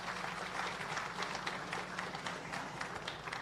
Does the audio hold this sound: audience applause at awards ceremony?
yes